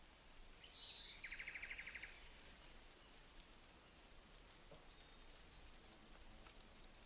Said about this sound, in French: La première pluie d'avril annonce l'arrivée du printemps.